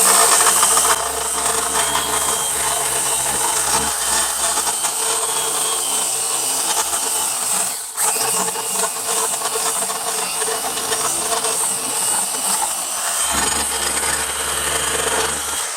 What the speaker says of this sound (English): So you always put the DA down on the substrate that you're going to be sanding.